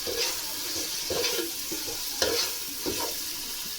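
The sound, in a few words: ginger garlic paste frying and stirred in pan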